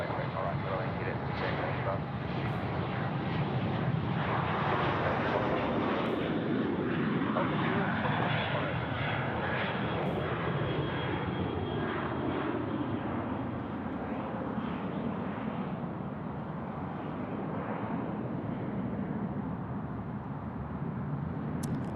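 An Air New Zealand airliner landing on runway 34 right at Sydney Airport, a broad loud engine roar sweeping past with a falling pitch and fading as it rolls out.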